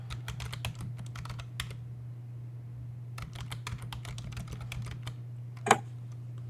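Steady keyboard clatter from someone working at a computer on a Linux system, with bursts of quick keystrokes separated by a brief pause, one louder key strike near the end, over a constant low electrical hum.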